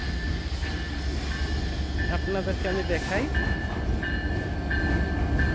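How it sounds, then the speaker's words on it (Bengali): A train rumbles into a station in Nilphamari, Bangladesh, with steady mechanical noise and a faint high tone, while a person talks briefly over it. "ট্রেন চলে আসছে।"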